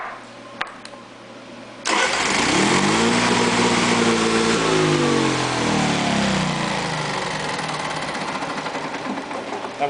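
A car engine cranking over and then catching, a sudden loud burst of starter whir that rises and settles into a steady close running drone for the rest of the moment.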